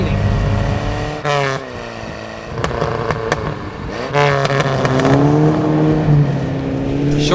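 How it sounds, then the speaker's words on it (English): An old car accelerates hard through its gears, the engine note climbing in pitch, dropping sharply at each of two shifts, then rising again, loud and close. "When accelerating, the car almost makes a sigh of relief between gear changes,"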